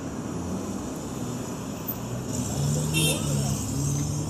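Steady road traffic noise played from a sound box, heard inside a 2025 Kia K4 GT-Line: a constant low rumble of passing cars with a slight swell partway through, fairly loud and continuous.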